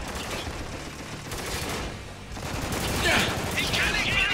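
Bursts of rapid gunfire crackle through a scene in the shooter video game Spec Ops: The Line, with mechanical clatter and a rising burst of shots toward the end.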